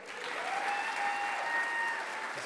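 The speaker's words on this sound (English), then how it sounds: "Can I get a round of applause for Will?" Audience applause after a book talk, steady dense clapping filling the room for the full stretch with no voices over it.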